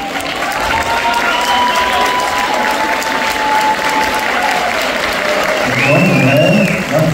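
An audience applauds at the 2023 Bansko bagpipe festival, sustained clapping that stays loud and steady, with a thin held tone running above it and a few voices mixed in.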